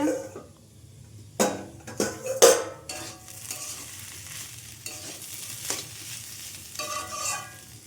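Potatoes frying in a pan: a steady soft sizzle at close range, broken by several sharp scraping and clattering stirs of a utensil against the metal.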